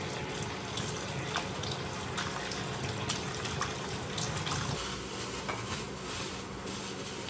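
Tap water runs steadily into a sink as ground meat is rinsed for Filipino-style spaghetti, a continuous close splashing stream lasting several seconds with no talking over it.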